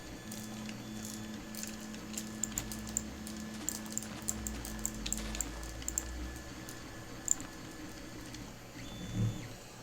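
A printer runs quietly, with a low mechanical hum and whirring drone broken by small ticks and clicks, plus a brief louder bump near the end.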